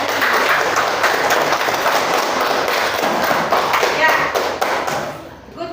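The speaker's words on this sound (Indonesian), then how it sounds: "Tepuk tangan." A classroom of students claps for group presentations, a dense burst of applause lasting about five seconds before tapering off, with a brief voice at the close.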